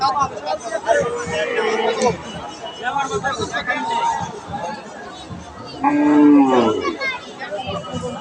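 Several cows and calves moo nearby at a cattle market in Bangladesh, with one long, loud moo near the end, while people chatter around them.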